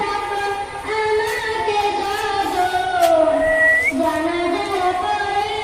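A steady tonal drone with sustained whistle-like pitches and a rumbling undertone, like a small train idling and whistling nearby, from a toy train at a park station, with no talk.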